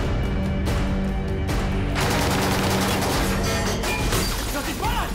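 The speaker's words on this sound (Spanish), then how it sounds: "¡Nos disparan!" Gunfire from armed pirates attacking a ship in a Spanish action movie trailer, dense bursts of shots and crashing impacts over loud continuous score and effects, with dialogue in the mix.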